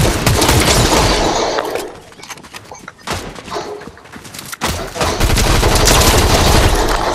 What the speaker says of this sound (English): Being shot from behind.